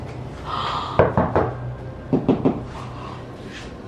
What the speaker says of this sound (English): They're knocking.